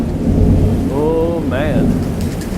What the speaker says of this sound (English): Oh yeah, it's coming down.